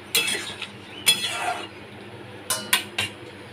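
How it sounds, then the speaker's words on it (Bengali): A metal lid is set onto a cooking pot of potato and pea curry, producing several bright clinks and short metallic clatters in separate bursts, close and fairly loud, with no talk. "আমি এখানে 10 মিনিট ঢাকা দিয়ে রাখবো।"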